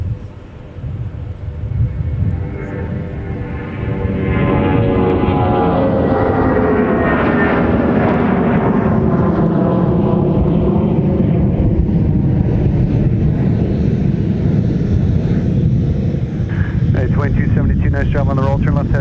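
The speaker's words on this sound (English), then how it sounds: "here's our United flight off to Denver." A United airliner bound for Denver takes off from Minneapolis–Saint Paul airport, its jet engines swelling into a loud sustained roar that rises in pitch and then holds steady.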